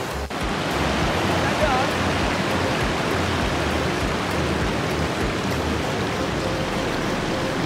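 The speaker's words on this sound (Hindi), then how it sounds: "बहुत ठंडी हवा चल रही है, बारिश हो रही है ऊपर से" Cold wind and rain in the Naltar Valley mountains, a steady, dense rushing hiss that stays loud and unbroken throughout, with a faint voice briefly underneath.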